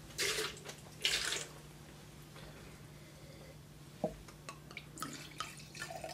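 A wine glass is rinsed with liquid: two short bursts of swishing and splashing sound up close, followed by faint drips and small clinks in a quiet room.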